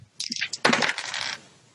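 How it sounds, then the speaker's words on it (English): Glow-in-the-dark dice tumble across a hard surface in a short burst of rattling clicks and clatter, close and fairly loud, settling after about a second. "the glow in the dark dice"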